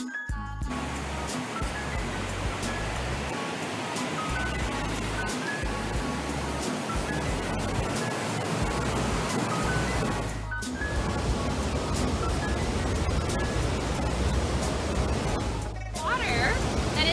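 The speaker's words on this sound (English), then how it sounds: "Over this waterfall just beneath my feet is heading out underground here to travel 13 miles in a pipe back to the Puget Sound." Treated water pours steadily over a waterfall at a wastewater treatment plant, a loud, continuous rushing hiss with brief low thumps, close by and sustained throughout.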